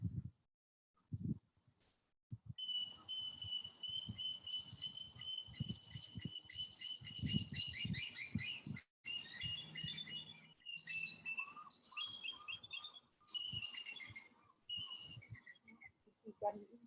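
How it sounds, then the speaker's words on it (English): High, repeated piercing calls of an eagle ring out in long, wavering trills, clear but somewhat distant. Brief low thumps and room noise sit underneath, and there is no talk. "Special cry of the eagle."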